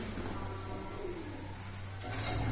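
Pigeons coo on a rooftop beside mud houses, a low, soft, throaty murmur running continuously at moderate distance, with a brief hiss of noise near the end.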